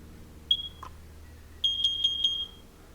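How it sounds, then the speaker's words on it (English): A First Alert carbon monoxide detector being tested gives a short shrill beep, then after a pause a run of four quick loud beeps close by, with no talking. "Now we're going to test the alarm."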